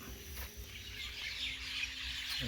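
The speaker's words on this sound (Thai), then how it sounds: "เสียงนก" Birds call and chirp faintly in the distance against a low outdoor hum in the evening as they return to roost, with a few soft squawks scattered across the moment.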